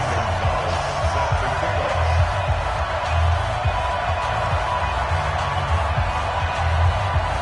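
Stadium crowd in an EA Sports NFL video game ahead of a kickoff against the New York Jets, a steady dense roar of cheering that holds level throughout under a commentator's voice.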